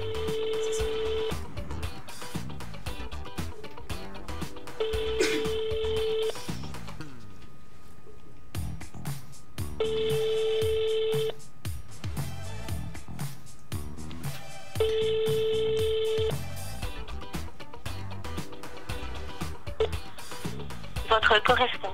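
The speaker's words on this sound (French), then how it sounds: "Je compose le numéro." A phone number is dialed, with several bursts of repeated beeping tones separated by pauses, heard close and clear while people talk and move about in the room.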